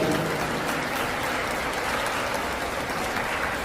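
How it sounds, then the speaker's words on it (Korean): Wedding guests at a hotel ceremony give the newlyweds a round of blessing applause, a dense, even wash of clapping from a large crowd that holds steady throughout without any voices. "축복의 박수 부탁드립니다"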